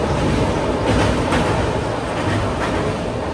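The Telangana Express pulls out of a station with a steady, close rumble of rolling wheels and carriages. Faint rhythmic clatter runs through the continuous noise, and no voices are heard.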